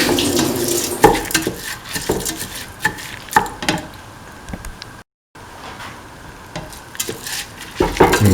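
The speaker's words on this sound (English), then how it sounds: "Mix the rice thoroughly" Mint tomato rice stirred in a hot pan, with loud close scraping and stirring strokes over a steady sizzle, briefly cut to silence partway through.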